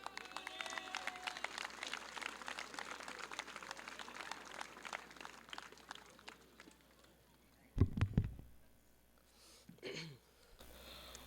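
A crowd applauds at the opening ceremony of a U15 boys' fast pitch softball championship, a steady wash of clapping under a distant announcer's voice, fading out before a brief louder burst near the end.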